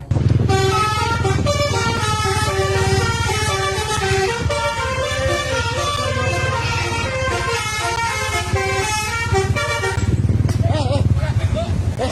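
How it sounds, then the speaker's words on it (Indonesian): A tour bus passing in front of an elementary school in Sawangan, Depok, West Java, sounds its horn in a long run of loud, melodic, repeating tones lasting about ten seconds, with people talking over it. "suara klakson bis yang dibunyikan di sekitar sekolah"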